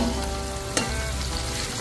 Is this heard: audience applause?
no